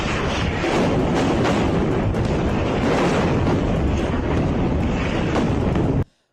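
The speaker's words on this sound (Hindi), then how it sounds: "आसमान से हमला हुआ और जबरदस्त धमाके के साथ बिल्डिंग में आग का गुबार देखा।" A huge, sustained roar of blast and rumble from an air strike on a building in Khan Younis fills the air without pause, then cuts off abruptly near the end.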